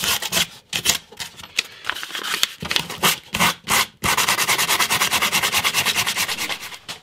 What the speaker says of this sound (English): So gonna have to do a bit more sanding